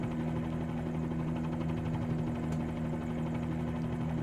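Bell 47G helicopter engine in MSFS2020, a steady droning hum with a constant low rotor throb, moderately loud and unbroken with no talking.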